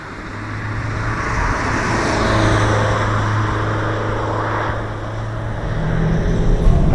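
The engine of a 1991 Toyota MR2 Turbo with a JDM swap making 320 hp drones and builds steadily while accelerating, loud and close, with broadband road and wind noise rising toward the end.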